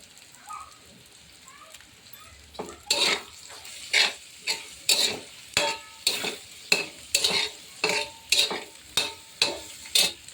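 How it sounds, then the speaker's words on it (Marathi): Dried bombil fish stir-fried with turmeric and a little salt in hot oil, a spatula scraping the pan in a regular rhythm of about a dozen strokes over constant sizzling, starting after a quiet moment. "गॅस फुल करून छान परतवून द्यायचा बॉम्बे तेलामध्ये"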